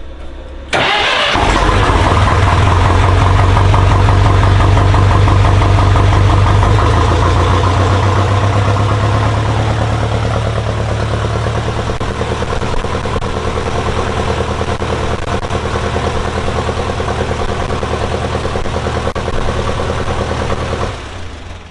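A Ferguson grey tractor engine cranks and catches with a loud start, then runs at a high rev before settling into a steady, close, chugging idle that continues until it cuts off.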